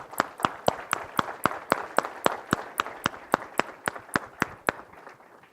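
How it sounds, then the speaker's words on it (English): An audience claps in a rhythmic, evenly spaced unison clapping at a conference session, sharp close claps repeating steadily for several seconds before fading out, with no talk. "I want to give them another round of applause now if you'll join me."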